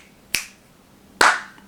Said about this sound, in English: Click one, click the other, clap. You just do it in a quick sequence.